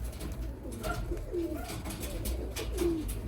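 A matched pair of yellow Hünkari pigeons coo nearby, a few soft rolling calls rising over a steady background hum, with no talking during the calls.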